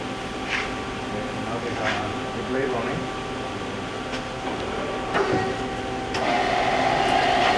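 An ACRA automatic horizontal bandsaw with a 22 by 19.69 inch capacity, hydraulic blade tension and a chip auger runs with a steady mechanical hum and whine as the head lowers, with a few clanks and a rise in level near the end.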